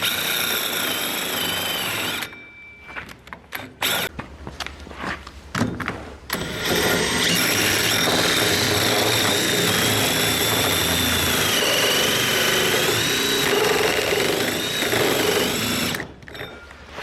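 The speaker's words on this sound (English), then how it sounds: "Maybe I can try the hole saw now." A hole saw on a drill bores into a wooden boat sternpost, giving a loud, steady whining buzz that starts, breaks into several short stop-start bursts, then runs on continuously before stopping near the end.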